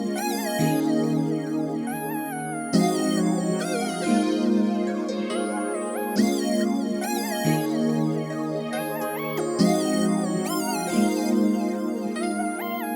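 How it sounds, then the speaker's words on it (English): Two layered synth lead melodies with delay, produced in FL Studio, playing a bright, stepping pattern of sustained notes with echoing repeats, looping in several phrases over about thirteen seconds, full and up front with no talking. "So the two leads together sound like this."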